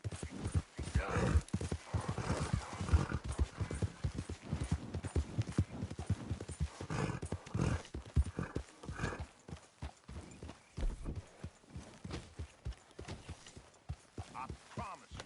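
A horse in Red Dead Redemption 2 gallops with steady, rhythmic hoofbeats that stay fairly quiet and close, continuing without pause.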